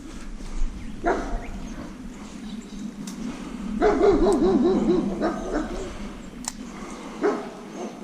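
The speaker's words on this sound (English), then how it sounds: "I'm really hoping that those dogs I can hear are Labradors." Dogs bark at a distance several times, with a longer burst of yelping barks in the middle, over steady riverside background noise.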